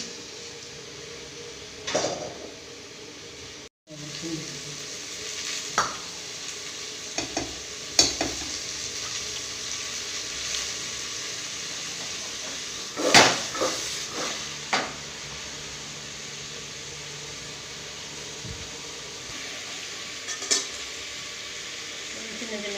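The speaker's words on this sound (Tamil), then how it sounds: "எண்ணெய் ஊற்றி லேசாக கிண்டி" Steady sizzling of vegetables stir-frying in oil in a pan, with occasional scrapes and stirring clatters over a continuous hiss.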